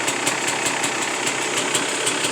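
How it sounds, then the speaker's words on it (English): A 2017 Beta 300rr two-stroke motorcycle engine with a Lectron carburetor idles steadily, giving a rapid even knocking beat with regular sharper ticks, loud and close, with no talking. "Sounds like it's idling pretty good."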